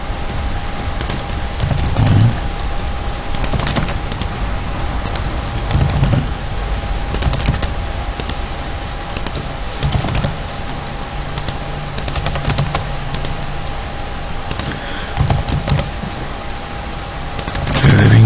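A computer keyboard is typed on nearby as a wrong password is entered over and over, with steady bursts of key clicks and short pauses, no talk.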